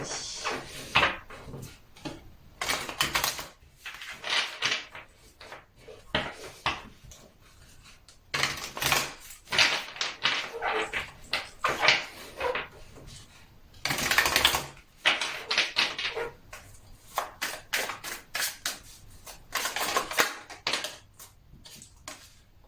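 Oracle cards being shuffled by hand in repeated bursts of close riffling and slapping, with brief pauses between rounds and no voices.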